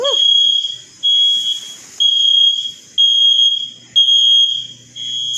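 An emergency alarm sounds in loud repeating shrill beeps, each about a second long with brief gaps between them, continuing steadily throughout.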